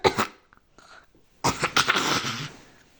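A child at grandma's house coughs without covering the mouth: a couple of short harsh bursts, a pause, then a longer noisy rasping cough fit, close and fairly loud, with no speech.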